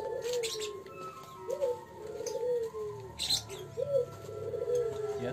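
Repeated soft, throaty racing pigeon coos in a low rolling rhythm, several calls close by, with faint chirps and rustling in the background.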